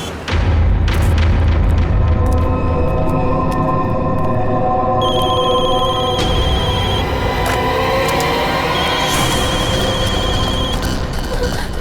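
A telephone rings insistently over a loud, booming dramatic score in a crime-drama scene, its tones layered and continuing steadily as if many calls are coming in at once.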